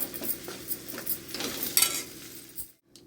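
Chili powder is stirred into a sizzling spinach and onion curry, with quick spoon scrapes and light metallic clinks over a frying hiss before a brief hush at the end.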